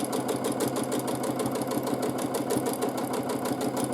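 Sewing machine stitching pebble shapes in free motion quilting, moving quite fast, a steady close rapid needle chatter running without pause.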